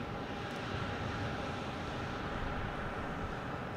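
An American Airlines E175 jet at Boston Logan Airport gives off a faint, distant, steady broadband roar that holds evenly with no other sounds.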